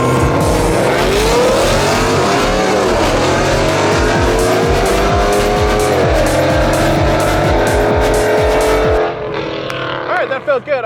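A car with an aftermarket intake and exhaust launches hard at a drag strip, its engine loud and close as it revs up through repeated rising sweeps, then the roar drops away near the end as the car pulls off.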